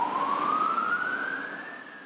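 An ambulance siren: one close, loud rising wail that sweeps upward steadily and fades slightly over two seconds.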